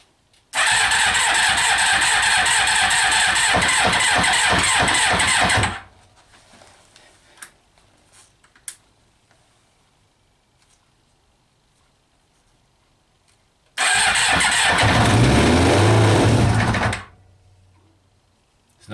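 A Kawasaki Eliminator ZL 600 motorcycle, being revived after sitting and started on choke, cranks and runs in two loud close bursts of about five and three seconds, separated by a quiet stretch of faint clicks and handling noises.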